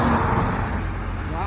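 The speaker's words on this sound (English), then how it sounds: "Did you see that car speeding up Cummins Highway? I heard it." A car speeding along Cummins Highway, a loud close engine roar and tyre rush that fades slightly as it passes, with traffic noise on the street beneath it.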